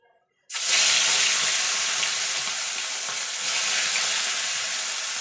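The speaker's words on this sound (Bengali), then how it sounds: "এবারে একটু করে লাল লাল করে মাছগুলো আমি ভেজে নেব।" Pieces of rui fish dropped into hot oil in a wok, a sudden loud burst of crackling sizzle after a brief silence, then continuous bright frying that stays strong to the end.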